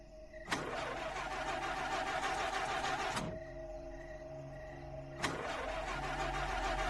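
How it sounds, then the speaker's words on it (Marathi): A stalled car's engine cranks and fails to catch: two long whirring starter bursts of about three seconds each, separated by a short pause with a low idle hum, close and moderately loud. "गाडी बंद पडल्या वाटतं."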